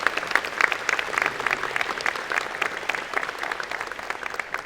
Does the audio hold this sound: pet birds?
no